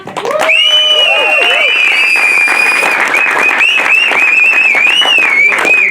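Audience applause at a short film show, dense clapping that is loud and sustained throughout, mixed with musical tones.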